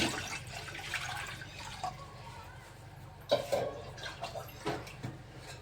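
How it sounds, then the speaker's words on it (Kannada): Water gushes steadily into a metal pressure cooker, close up, followed by a few sloshing knocks as the stream ends. "ಇವಾಗ ಈ ಕುಕ್ಕರಿಗೆ ನೀರು ಹಾಕೊಳ್ಳೋಣ್ರಿ."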